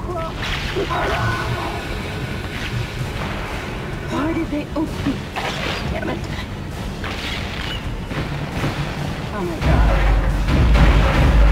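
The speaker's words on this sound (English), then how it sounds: "Oh god, explosion." Explosions and booming impacts in the sci-fi horror game Dead Space aboard the USG Ishimura, with rumbling mechanical noise throughout and a heavy low blast swelling near the end, under a man's speech.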